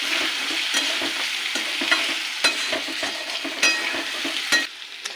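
Potatoes seasoned with salt and turmeric fry in a pan while being stirred, a steady close sizzle broken by repeated scraping strokes and light clicks of the utensil.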